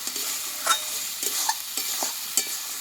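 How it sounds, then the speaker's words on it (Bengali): Spice masala with a little sugar is stirred and fried in a pan for a chicken curry, a steady close sizzle with repeated spoon scrapes and clinks against the metal. "এই চিনিটা দিয়েও আমি মশলাটা আবার 1 মিনিট মতো এইভাবে কিন্তু কষিয়ে নেব"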